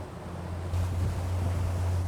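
An Azimut 54 motor yacht planing across Biscayne Bay, its engines a steady low drone beneath continuous rushing water and wind noise.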